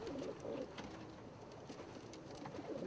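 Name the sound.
bluette and satinette pigeons cooing in a pen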